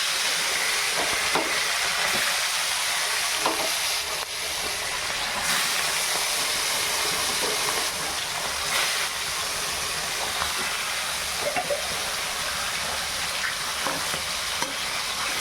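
Fish pieces fry in hot oil alongside vegetables, a loud continuous sizzling hiss dotted with sharp spitting pops and crackles, close up and without talk.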